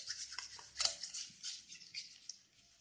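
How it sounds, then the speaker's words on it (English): Egg and sugar whisked together in a bowl for a coconut cream pie, a close, quick clinking and scraping patter that tapers off toward the end. "And now we'll be whisking it well so that both get blended easily"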